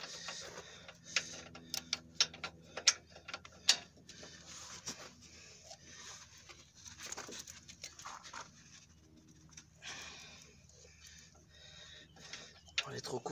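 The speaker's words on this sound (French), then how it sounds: "Je vais essayer avec le cliquet cette fois-ci." A ratchet wrench clicks in short, rapid bursts while loosening a stiff bolt on the suspension arm of a Fiat Stilo 1.9 JTD. The sharp ticks are loudest early on, then fade to quieter, intermittent clicking.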